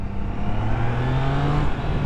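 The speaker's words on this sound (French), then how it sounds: "C'est le moteur de la 660." A Triumph Trident 660 motorcycle's three-cylinder engine runs loud and close, with a steady throaty roar and a tone that climbs gradually as it revs.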